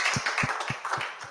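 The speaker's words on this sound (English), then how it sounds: "a round of applause" Applause at the end of a Terraform talk, heard as a brief run of about five evenly spaced claps, close and fairly clear.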